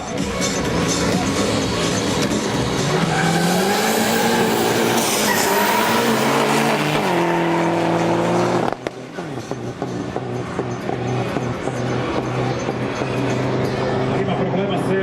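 An Opel Kadett 2.0 turbo running nitro with 285 horsepower races hard, its engine roaring loudly and climbing in pitch through repeated revs under continuous commentary, with a brief drop before the engine noise resumes.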